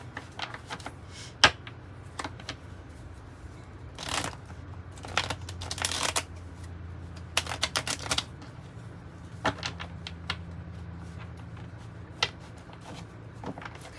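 Cards from the 108 Oracle deck are shuffled in a quiet room, giving soft papery riffles and taps in scattered bursts over a low steady background hum, with no talking.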